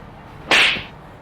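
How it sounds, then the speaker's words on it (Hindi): A single sharp slap cracks out loud and close at mid-clip, with a brief bright decay, in a Hindi drama scene at a garage. "तुमने मुझे थप्पड़ क्यों मारा?"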